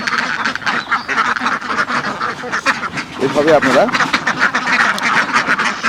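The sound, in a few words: ducks quacking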